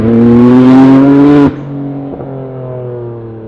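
A 600HP Nissan GTR R32 revs hard with a loud, rising exhaust howl, then abruptly lifts off into a lower, rumbling drone as it keeps driving close by.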